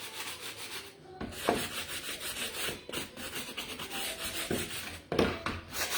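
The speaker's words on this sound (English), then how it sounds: "we're going to take this and we're going to sand it now" Sanding a wooden Christmas sign: steady back-and-forth abrasive rubbing continues close by, with a few louder scraping strokes and short breaks between passes, and no talking.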